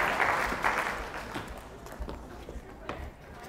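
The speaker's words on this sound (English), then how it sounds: "give them a round of applause" Audience applause at a college stage hypnosis show, a fairly loud burst of clapping that fades over a few seconds into scattered claps and shuffling, with a host's voice over it.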